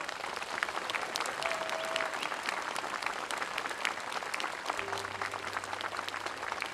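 Audience applause for the concert: steady, dense clapping from a full hall, loud and sustained without a break, with no talk over it.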